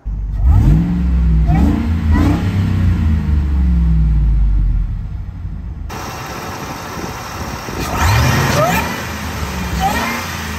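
A Ford SVT Lightning pickup's 5.4-liter supercharged V8 revs hard several times close by, its loud rumbling pitch climbing and falling in repeated surges with a brief lull between bursts.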